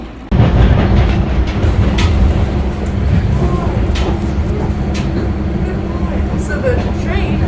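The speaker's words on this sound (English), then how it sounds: "So the train, or the T" Boston subway train on the T rolling steadily along its rails, a continuous loud rumble with faint clicks from the track, filling the whole stretch from near at hand while a voice talks underneath.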